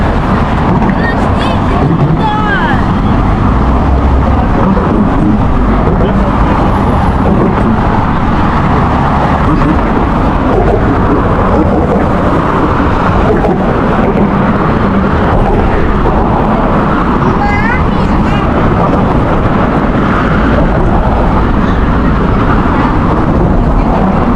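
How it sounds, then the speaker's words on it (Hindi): Loud, constant roar of passing traffic and strong wind while walking across the Golden Gate Bridge in San Francisco, low rumbling noise filling the whole stretch with no letup. "अब शुरू कर रहे हैं वॉक गोल्डन गेट ब्रिज के ऊपर।"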